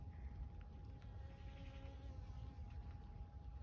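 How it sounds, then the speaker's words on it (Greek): Honey bees buzz faintly around beehives at a rural apiary after rain, a thin steady insect drone over a low rumbling outdoor background with no voices. "Εδώ έχουμε μέλισσες, σε αυτό εδώ το μελίσι."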